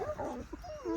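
A fox-hunting hound gives a few short yelps and whimpering barks close by, brief and fairly faint, with no speech.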